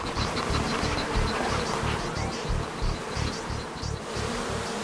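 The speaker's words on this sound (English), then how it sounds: "Okay, Ruud, it's time to get these bees off." A large swarm of bees buzzes densely and close up, a steady, loud drone with rapid pulsing wingbeats filling the whole stretch, no voices over it.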